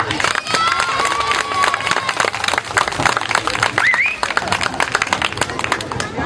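A crowd at a savate (French boxing) training session applauds and cheers, with dense clapping and scattered shouts running steadily throughout, with voices mixed in.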